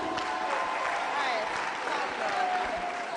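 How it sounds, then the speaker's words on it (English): An audience at a primary school leaving exercise claps steadily, a moderately loud crowd sound with voices and some tonal sounds mixed underneath. "give them a round of applause to encourage them"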